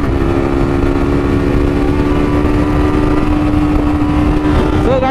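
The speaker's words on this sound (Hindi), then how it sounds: "ये गाड़ी तो भाग ही रही है, 125 cc का है और बहुत ज्यादा दिक्कत होगा ये बाइक में मुझे।" A 125cc motorcycle runs along a road with a steady, loud engine drone and constant wind rush heard up close from the rider's position, the pitch holding even until a slight rise at the end.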